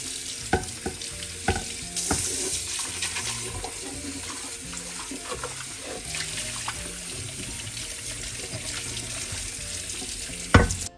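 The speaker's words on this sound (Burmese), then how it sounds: "ရေတန်လေးဆေးချလိုက်မှာပေါ့နော်" Tap water runs steadily over a steel pot being rinsed in a kitchen sink, a continuous close splashing hiss with a few knocks of the pot against the basin and no talking.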